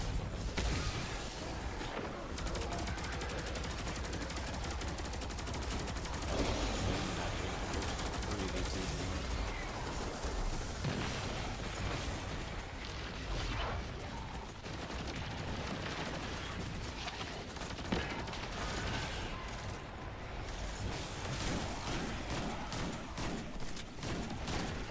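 Dense, continuous gunfire and booming blasts from a Destiny 2 firefight against snipers, loud and sustained for the whole stretch with no clear pauses.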